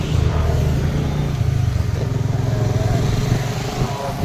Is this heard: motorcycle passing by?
yes